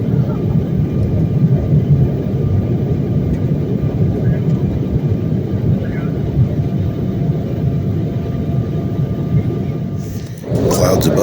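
Loud, steady airliner cabin roar fills the air, a dense low drone that holds unbroken before shifting and dipping briefly near the end.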